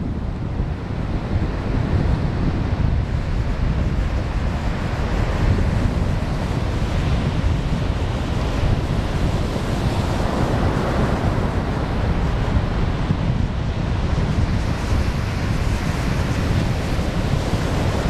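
Ocean surf rolls and breaks steadily along an Outer Banks beach near the Avalon Pier, a continuous broadband wash with wind buffeting the microphone throughout and no voices.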